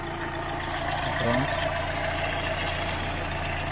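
A vehicle engine idles steadily and evenly at close range, a continuous low hum with a brief voice-like sound partway through.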